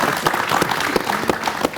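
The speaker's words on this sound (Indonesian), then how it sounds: "Tepuk tangan dong untuk Korpri." An audience at a civil servants' event on election neutrality applauds the civil servants' corps, a sustained burst of many hands clapping with sharp claps standing out and no one talking over it.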